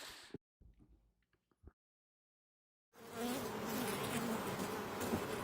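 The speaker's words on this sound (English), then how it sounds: "We want to have as many bees as we can to make honey." A dense, steady buzz of many honeybees swells in after a moment of near silence, close and continuous with a few faint clicks before it.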